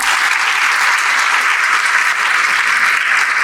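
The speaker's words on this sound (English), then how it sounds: "Another round of applause." Dense, loud audience applause at a university human rights public lecture, continuous many-handed clapping filling the room evenly throughout with no break.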